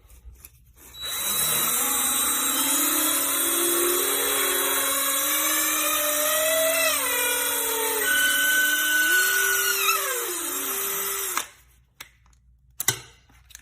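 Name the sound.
drilling out fishing rod grips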